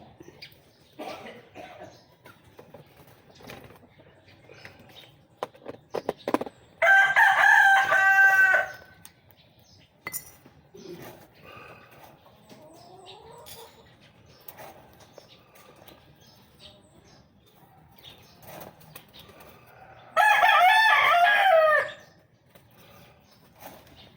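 Two loud rooster crows stand out several seconds apart, with quieter clucks, coughs and rustling in between, from chickens and ringneck doves at feeding time.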